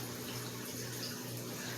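Water runs steadily from a small pipe into a garden fish pond, a continuous soft rushing trickle with no talk over it.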